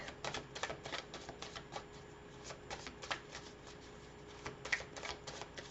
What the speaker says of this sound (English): Let's pull some cards here from this deck.